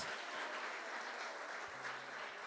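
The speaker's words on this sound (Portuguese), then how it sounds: "Dá uma salva de palmas ao Senhor Jesus" A church congregation claps for Jesus during a Portuguese-language sermon, a steady dense wash of applause throughout with a brief voice or tone in the background.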